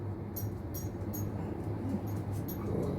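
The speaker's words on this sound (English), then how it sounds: "my dog's being annoying" A dog whimpers indoors, a few faint high whines repeating at short intervals over a low steady background hum.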